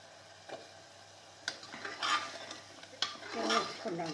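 Potatoes fry in ghee-based masala for aloo paneer while a utensil stirs and scrapes the pan, giving a few separate clinks and scraping bursts over a faint background sizzle.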